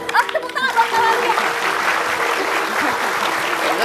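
A studio audience on an Indonesian television talk show bursts into applause, a dense, steady clapping that swells after a brief voice and holds loud and full for several seconds.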